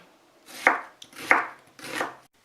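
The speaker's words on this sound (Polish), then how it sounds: "Cebula nie musi być drobno pokrojona." Onion being chopped on a board for mustard pork ribs with paprika: three crisp, close knife strokes fall about two-thirds of a second apart, each a sharp thud with a short crunchy tail.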